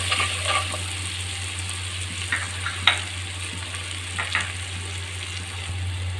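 Ground turmeric, cumin and coriander frying in a hot pan for a fish curry with potatoes, cauliflower, beans and tomato: a steady broadband sizzle with occasional sharp stirring clicks, close and continuous, with no talking.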